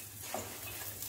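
Chicken 65 being mixed with pepper in a pan, a faint soft sizzle with a brief light stirring movement, quiet and short.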